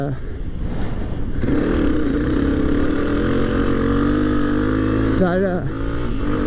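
A 2022 Honda CRF250F motorcycle engine runs steadily, a close, continuous drone with a brief rising rev near the end, while a person talks over it.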